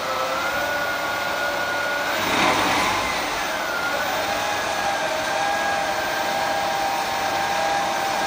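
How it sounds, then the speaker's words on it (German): A gearbox test stand runs with a GT gearbox rebuilt for a car, producing a steady mechanical whine with a slight pitch shift partway through, close and continuous. "Ein Getriebeprüfstand, was?"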